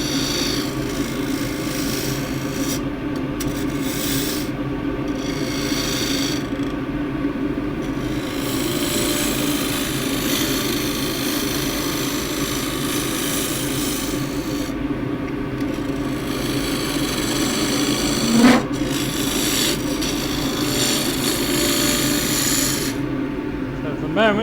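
A lathe tool cuts a jewel box of splintery she oak, making a continuous close rasping, whirring scrape with steady texture and brief tool knocks.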